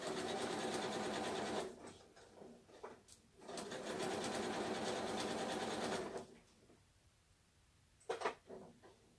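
A domestic sewing machine stitches and backstitches a seam on a tulip tea towel, a steady close whirring run that pauses briefly, resumes, then stops, followed by a few clicks.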